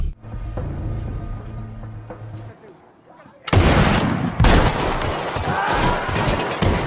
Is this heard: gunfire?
yes